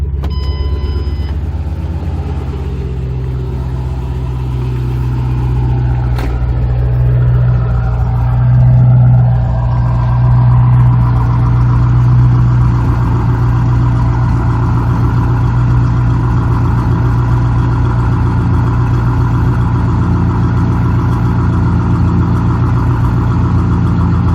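A modified Ford Mustang GT running E85 with aftermarket exhaust and cold air intake idles loud and steady with a deep, throaty exhaust rumble. It holds constant throughout with no talking.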